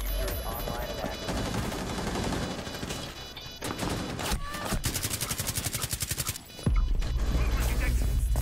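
Shotgun blasts and rapid gunfire ring out in a tense round of the tactical shooter Rainbow Six Siege, with loud overlapping shots, a burst of fast repeated fire midway and heavy bangs near the end, all beneath excited team chatter.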